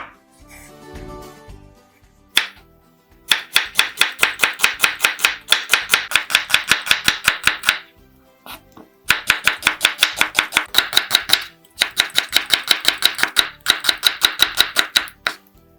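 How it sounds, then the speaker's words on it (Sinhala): A knife chops vegetables for pakora on a board in fast, loud, close strokes, grouped into long rhythmic runs with short pauses between them. "මුලින්ම අපි එළවලු ටික කපා ගමු"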